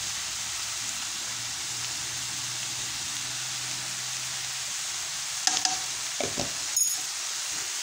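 Vegetables sizzling steadily in a hot pan for a vegetable quiche, with a few sharp scraping stirs of a utensil near the end, heard close and alone.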